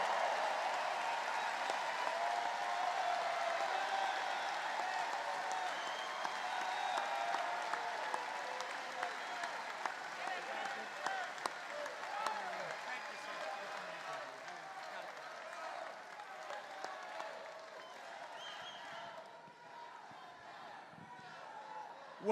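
A large crowd at a political rally in Wheeling, West Virginia applauds and claps steadily to welcome a speaker to the stage, the dense clapping slowly thinning toward the end, with shouts and talk mixed in.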